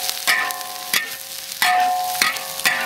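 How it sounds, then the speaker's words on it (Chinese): Celery, pork and fried tofu with chili stir-frying in a hot wok, a steady close sizzle broken by repeated louder scraping strokes of the spatula about every half second to second, with no talk. "好嘞，让它炒香一点"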